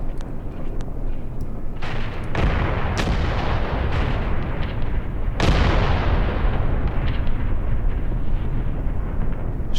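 Tank guns firing in the Graviteam Tactics war game, heavy booming shots with a couple of big blasts over a constant loud rumble of battle, no talking.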